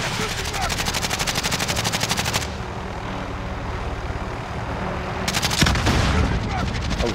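Helicopter gunfire in a video game, dense continuous machine-gun bursts over a roaring rotor and engine drone, loud and sustained with a short break in the firing midway.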